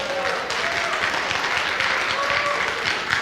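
An audience at a high school Miss Massillonian and Outstanding Senior Boy event applauds, a steady wash of clapping with some voices mixed in.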